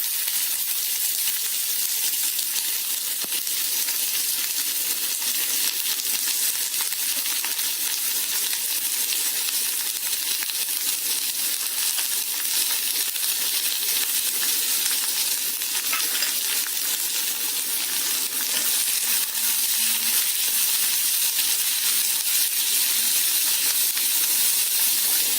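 Sliced onion sautés in hot oil, a steady close sizzle and hiss that runs unbroken, with faint ticks and pops scattered through it and no voices.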